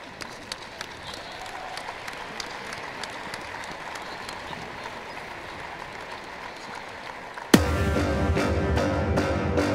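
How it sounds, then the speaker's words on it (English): A crowd applauds seniors at a men's college basketball game between Hope and Kalamazoo on senior day, a dense, steady clapping with scattered sharper claps that cuts abruptly into a louder, different sound near the end. "a round of applause for your seniors"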